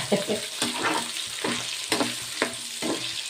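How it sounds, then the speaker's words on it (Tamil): Pirandai (adamant creeper) being sautéed in a pan for Chettinad-style kuzhambu: close, rhythmic spatula scrapes roughly every half second over a soft, steady sizzle. "நல்லா வதக்கப்பட்டுருச்சுங்க"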